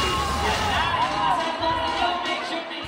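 Festival crowd at Kadayawan in the Philippines, shouting and cheering as celebrities join the fiesta, a loud dense roar heard close with voices over it.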